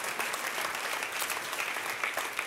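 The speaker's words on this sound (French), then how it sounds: "applaudissez à faire trembler le plafond" Enthusiastic applause from a church congregation during a sermon in Brussels, dense steady clapping that stays loud and even throughout, with no voices rising above it.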